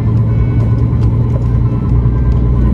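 Steady, loud low-pitched engine rumble from a loaded truck pulling away from a farm, close by and continuous with a faint rise in revs.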